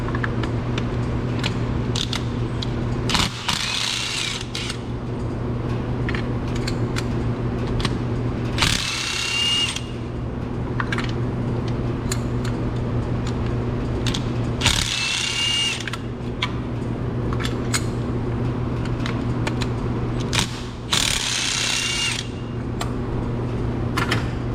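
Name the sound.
removing Nissan Rogue spark plugs with 14 mm deep socket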